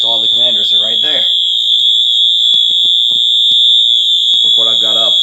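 Wheelock MT4-24 fire alarm horn blaring continuously and very loud during a fire alarm system test, a steady piercing tone with someone talking over it at the start and end.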